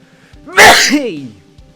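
A single loud, close sneeze bursts out sharply, with a quick intake before it and quiet afterward.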